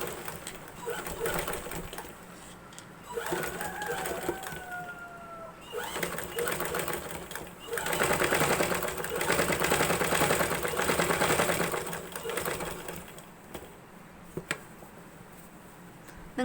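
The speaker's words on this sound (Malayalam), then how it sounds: "അപ്പം ഇതുപോലെ തന്നെ നമുക്ക് കൈക്കുഴി ഒന്ന് അടിച്ചെടുക്കാം." A sewing machine stitches the armhole of a frock in a few bursts of rapid mechanical whirring, the longest in the middle, separated by quieter pauses with faint background sounds.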